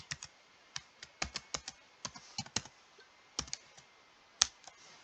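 Quick bursts of typing on a computer keyboard, close and fairly quiet, with irregular key clicks and short pauses between runs of keystrokes, no voice.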